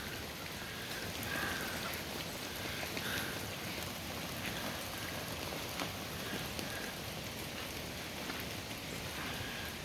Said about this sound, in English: It's raining cats and dogs here in West Virginia the whole day.